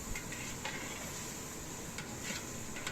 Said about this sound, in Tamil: ஒரு கிலோ தக்காளி பழத்தையும் இதில் சேர்த்து நல்லா வதக்கி எடுத்துக்கலாம்